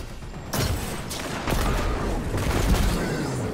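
A rocket launcher fires in the video game Destiny 2, with loud booming blasts and rumbling explosions layered over dense game noise, with a sharp onset and sustained roar.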